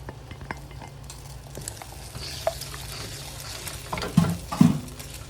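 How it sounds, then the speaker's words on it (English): Two scrambled eggs going into a pan of fried rice, with low clatter and stirring under a steady background hiss, then two brief louder knocks and scrapes near the end. "I'm gonna add the eggs."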